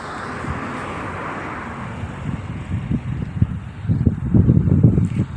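Steady wind blowing across the microphone, a broad rushing roar that swells into louder gusts toward the end.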